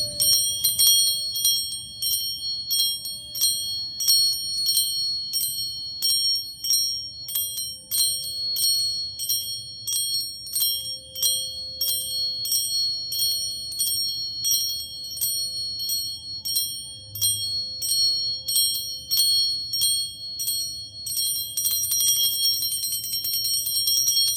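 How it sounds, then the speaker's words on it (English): Two bells ring repeatedly in an even, overlapping pattern, bright and sustained, over a low steady hum, with no talking, during a full moon ceremony. "I'll use the two bells"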